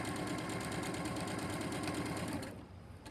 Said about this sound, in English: So I'm going to put it here under the machine. And we're going to sew.